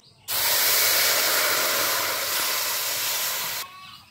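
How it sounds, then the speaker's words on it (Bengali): Water poured into a hot kadai sizzles and hisses loudly in one steady burst lasting about three seconds, then cuts off abruptly. "আমি কড়াইয়ের মধ্যে দিয়ে দিচ্ছি প্রথমে জল।"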